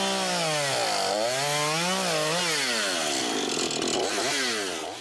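A chainsaw cuts wood during a home rebuild after a natural disaster, its engine loud and close, revving up and down continuously with a whining, wavering pitch and no talking.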